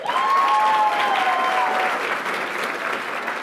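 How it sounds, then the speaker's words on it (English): An audience at an awards ceremony applauds steadily, a dense wash of clapping with a faint whistle briefly riding over it. "Applauding in her absence, Anissa Marie Cooper."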